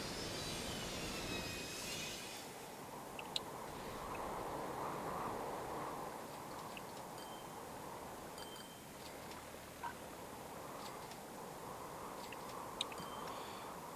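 Several trains arrive one after another on a single line in the Transport Fever 2 simulation game, heard as a quiet, steady rolling rumble with faint scattered clicks, and no one speaking.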